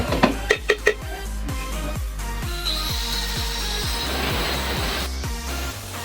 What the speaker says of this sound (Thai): แถวบริเวณนี้นะครับเดี๋ยวจะทำการเจาะ